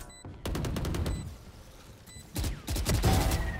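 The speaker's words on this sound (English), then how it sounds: "I'm fucking shooting." Rapid bursts of gunfire in Valorant, with two loud, dense volleys of quick shots separated by a short quieter gap.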